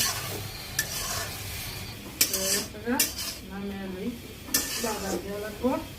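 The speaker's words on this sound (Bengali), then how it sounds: "ভাতটা লাড়া দিয়ে সিদ্ধ হয়ে গেছে মোটামুটি" Rice cooking in a pot is stirred with a utensil, giving clanks against the metal and scraping strokes over a low simmer, close by, with a voice talking over parts of it.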